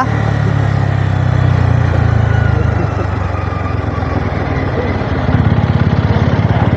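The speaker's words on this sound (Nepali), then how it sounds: "जोट कुद्छ नि यो बाइक त" A Bajaj Pulsar N250 motorcycle engine runs loud and close, a steady low throbbing idle with a slight rise in revs near the end, under intermittent talking.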